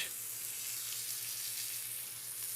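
Lamb chops sear on a grill, seasoned with salt and cooked Italian style, giving a steady, close, even sizzling hiss that holds without a break from start to finish.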